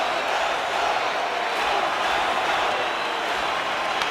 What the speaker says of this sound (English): you can feel the energy in this crowd